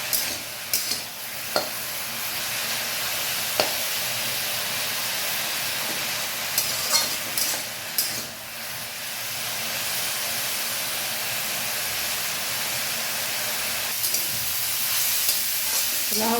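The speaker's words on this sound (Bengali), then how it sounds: "লাউ শাক ভাজতে একটু টাইম বেশি লাগে" Bottle gourd greens and stalks fry in a pan on a gas flame with a steady hiss and sizzle. Occasional sharp clinks and scrapes come from stirring, and no one speaks.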